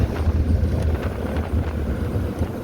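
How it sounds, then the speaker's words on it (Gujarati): Strong cold wind during rain in Maharashtra buffets the microphone in a continuous low roar, gusting unevenly throughout with no voices. "હાલે વરસાદની મોજ ને ઠંડો પવન."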